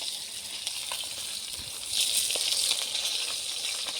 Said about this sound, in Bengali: একদম লাল লাল করে ভেজে নিয়ে